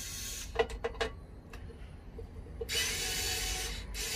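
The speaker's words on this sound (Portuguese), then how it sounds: "essa furadeira, parafusadeira aqui elétrica" Handheld electric drill-screwdriver used in a workshop while cleaning a Philips air fryer: several short bursts of whirring, then a longer sustained run near the end, close and moderately loud.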